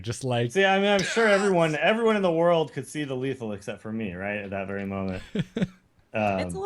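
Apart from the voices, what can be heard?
No distinct noise like a dog, phone or traffic.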